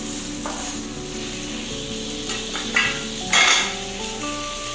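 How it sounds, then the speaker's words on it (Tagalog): Tomatoes sautéing in a pan for a bottle gourd and dry shrimp dish, a steady close sizzle with metal utensil scrapes and clinks stirring them around, a louder burst of clatter near the end. "Then, lutuin natin yung ating kamatis."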